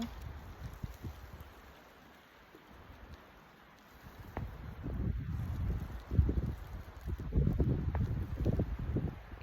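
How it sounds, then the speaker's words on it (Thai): Strong, cold wind with snow blows in gusty bursts of low rumbling microphone buffeting, quieter at first and then louder and rougher in the second half, with no talk. "ลมแรงลมแรงเนาะวันนี้"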